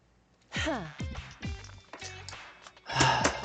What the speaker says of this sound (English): Hiroko clearing her throat, just loud enough to demand our attention.